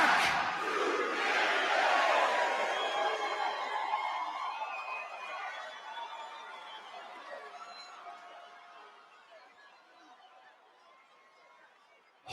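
A large crowd at a live wrestling show lets out loud, high-pitched shrieks and screams that swell at first and then slowly fade away over about twelve seconds.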